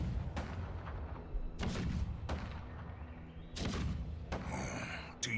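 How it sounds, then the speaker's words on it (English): Cannons rumble in the video game Honkai: Star Rail as several distant booming blasts with rolling low tails, spaced irregularly and mixed with other game effects. "The rumble of the cannons."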